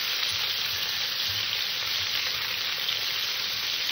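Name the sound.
pointed gourd (potol) frying in oil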